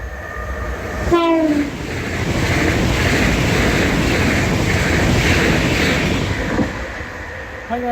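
A passenger train on the Cornwall to Cambridge service rushes past nearby with a loud, steady roar of wheels on rail, opening with a descending two-tone horn blast and fading slightly near the end.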